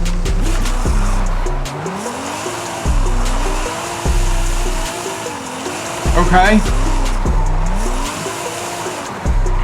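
A GTR drifts in a racing video game, its engine note rising and falling in repeated sweeps through gear changes while tires squeal and skid loudly, with a voice talking over the action.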